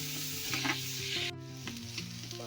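Finely chopped onion fries in a pan over medium heat, giving a soft, steady sizzle beneath background music.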